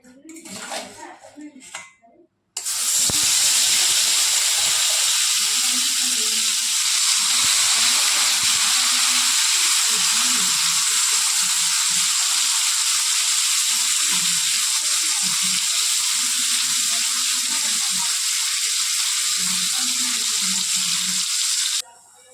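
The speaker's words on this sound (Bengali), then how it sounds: "এখন আমি পটল আলু এগুলো ভাজতে শুরু করছি" Sliced potatoes and pointed gourd hit hot oil in a pan, starting with a sudden loud sizzle that stays as a steady, close hiss, with occasional utensil scrapes and a few voices talking underneath.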